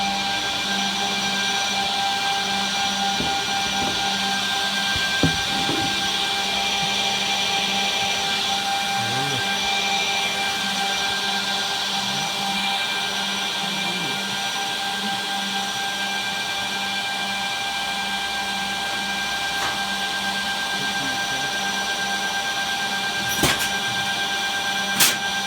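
A Brandt KDN 210B edgebander runs a piece of material, giving a steady, loud mechanical whine and drone throughout with a few faint clicks and knocks.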